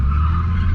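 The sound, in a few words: Ford Falcon drifting, tires skidding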